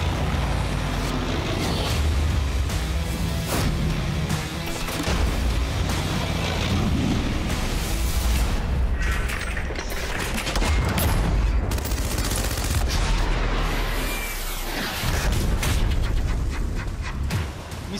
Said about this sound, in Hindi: टैंक तोप के गोलों के बीच भीषण अभ्यास,